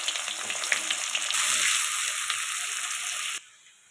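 Chopped onions hitting hot oil already tempered with dry red chilli, bay leaf and cumin, a bright steady sizzle close by that jumps louder as they go in, then cuts off abruptly.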